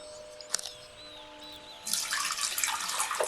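After a quiet start with a few faint clicks and knocks, a tap is turned on and water gushes and splashes steadily while sprouts are rinsed, the hissing flow loud and close for the last stretch.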